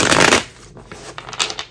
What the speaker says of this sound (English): I'm doing 6 shuffles for the lovers.